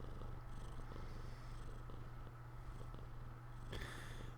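A cat named Oliver purrs softly close to the microphone, a faint, steady low rumble under background hiss, with a brief brighter noise near the end.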